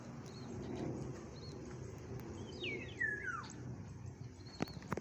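A single clear Black-naped Oriole call sweeps downward once, thin and distant, over a steady outdoor hum with a few faint knocks.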